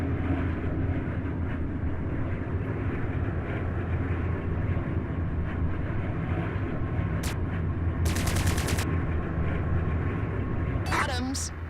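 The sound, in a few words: plasma cannons firing in the video game Strike Suit Zero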